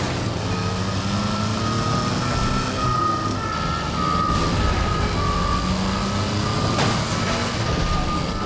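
An alarm siren blares in the video game The Saboteur, a steady tonal wail held over constant vehicle engine rumble, loud and continuous throughout, with no talking.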